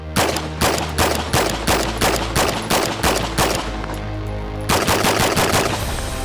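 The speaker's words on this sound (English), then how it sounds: "we're gonna show you a little bit of recoil demonstration" A real-world version of the Jackal submachine gun from Black Ops 6 fires a long, rapid automatic burst for about four seconds, pauses briefly, then fires a second burst, all loud and close.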